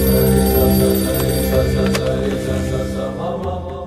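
A telephone rings with a steady electronic tone, loud and close, continuing for a few seconds without any voices.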